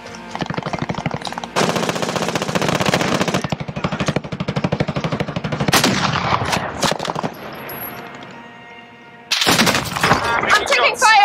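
Close video-game gunfire rattles in long automatic bursts, broken by brief pauses and a quieter stretch before the shooting resumes loudly.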